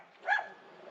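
A single dog bark rings out at moderate distance, with a faint trailing yelp afterward against a quiet background.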